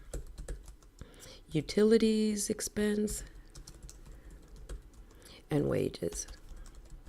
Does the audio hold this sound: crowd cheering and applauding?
no